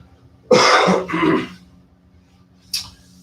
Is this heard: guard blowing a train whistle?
no